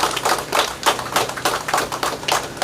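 Audience applause at a closing ceremony for a meat fabrication workshop, a steady burst of many hands clapping close and loud, running continuously without pause.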